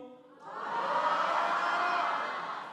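Church congregation at an autumn dawn revival service shouting "wow" together, a sudden loud burst of massed voices that swells and holds for about two seconds before fading slightly.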